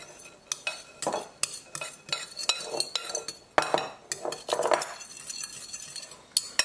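A utensil stirs a dry spice and cornstarch mix in a bowl, giving repeated light clinks and scrapes in an uneven rhythm, close and fairly quiet.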